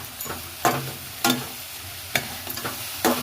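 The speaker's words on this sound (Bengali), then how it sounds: "মিশিয়ে কিছুক্ষণ ভেজে নিয়েছি।" Banana stem fries with cumin and spices in a pan under a soft, steady sizzle. Several sharp scrapes of a spatula stirring the mixture cut through it at uneven intervals, close by and with no speech.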